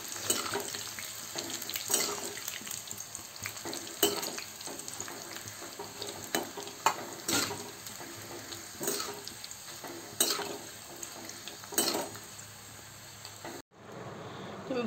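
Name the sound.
deep frying leftover roti strips in oil on low flame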